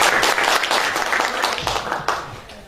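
Audience applause at a talent academy masterclass event in Gədəbəy, a dense burst of clapping that swells and then gradually fades over a few seconds.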